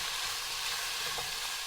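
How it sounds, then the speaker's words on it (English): Beef browns in a pan with rendang paste, giving a continuous close, even sizzle and hiss with slight crackles and no talking. "So I'm going to let that beef brown for 3 to 4 minutes."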